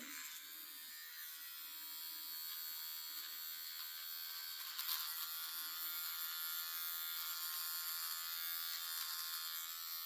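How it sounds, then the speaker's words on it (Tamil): An electric eyebrow trimmer runs steadily after being switched on, a continuous high-pitched buzz close to the mic that holds for the full length with no talking. "இப்போ இதை வச்சு நான் எப்படி ஐப்ரோ சேவ் பண்ணுறேன்னு செய்து காட்டுறேன்"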